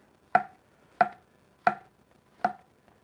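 A knife chops butter bolete mushrooms into big pieces on a board, four crisp evenly spaced thunks close up with quiet in between.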